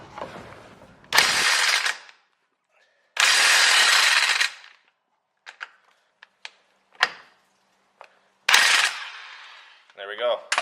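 An impact wrench removes the axle nuts on a rear-wheel-drive Subaru WRX in three loud rattling bursts, separated by quiet gaps with small clicks and metallic clinks.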